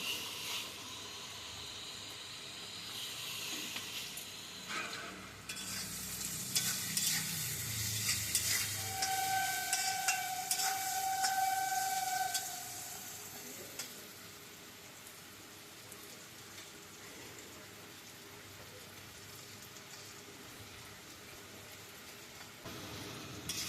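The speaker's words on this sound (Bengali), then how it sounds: "আলু বেগুনটা এবার লাল লাল করে ভাজা হয়ে গেছে" Soft, continuous sizzling of potatoes and eggplant frying in oil, rising briefly with some stirring, then settling to a quieter crackle.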